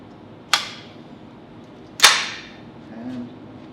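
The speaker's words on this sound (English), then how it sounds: "I'm going to fire a couple rounds like that" Two sharp rifle shots fired with an HTA DigiTrigger 2.2 digital trigger, a 33-round magazine loaded; loud cracks about one and a half seconds apart, each with a ringing decay, followed by faint handling noise.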